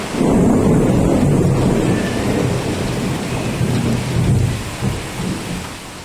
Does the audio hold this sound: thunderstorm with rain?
yes